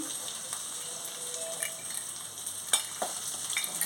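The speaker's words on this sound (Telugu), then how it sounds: "ఇది కూడా కొంచెం వేగనివ్వాలి" Sesame seeds sizzle softly in a pan for a cucumber chutney, a faint steady frying crackle with a few small stirring clicks and no talk.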